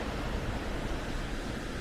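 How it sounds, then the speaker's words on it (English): A small waterfall runs from pipes above a little marina, producing a steady, full rushing wash of water with no breaks and no voices. "Got a nice little waterfall there."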